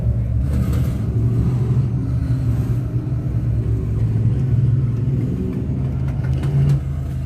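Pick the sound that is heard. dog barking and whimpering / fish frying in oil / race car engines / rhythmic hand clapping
race car engines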